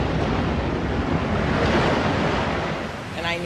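A tsunami wave crashing in towards a school and back out to sea, heard as a loud, sustained roar of surging water with a rushing, wind-like wash.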